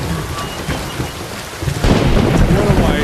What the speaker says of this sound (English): That was some loud rain.